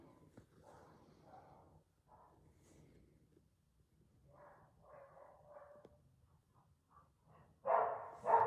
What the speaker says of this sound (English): There's the neighbourhood dogs woofing, and now my two.